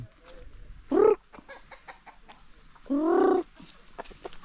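Two loud, drawn-out hen calls stand out nearby, separated by a pause, with faint scattered clucks and clicks in a quiet farmyard.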